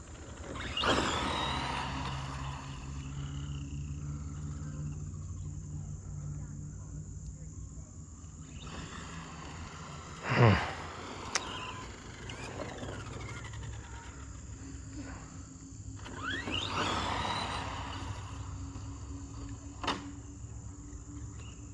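An Associated DR10 team kit RC drag truck runs across a rough parking lot, its electric motor whining up in a few separate bursts amid quieter stretches, with someone talking in between.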